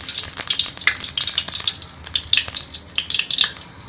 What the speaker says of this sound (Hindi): अब हमारा ऑयल गर्म हो गया है तो इसके अंदर हम बिस्किट को फ्राई कर लेंगे